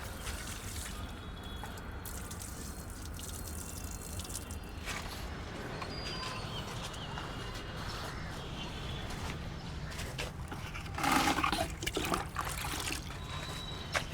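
Water poured from a jug onto a concrete slab to check for leaks runs in a steady trickling stream, swelling briefly louder near the end.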